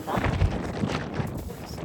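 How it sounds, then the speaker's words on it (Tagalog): Strong wind at Dingalan, Aurora buffets the microphone with a steady low roar and gusty rumbles, loud and continuous throughout. "Lakas ng hangin."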